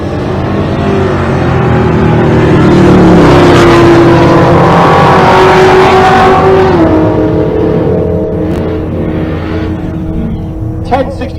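A fifth-gen Camaro drag races at a Race Week event in Pueblo, Colorado, its loud engine roaring and rising in pitch as it accelerates, then fading as it passes.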